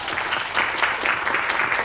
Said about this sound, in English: Let's please give a round of applause to him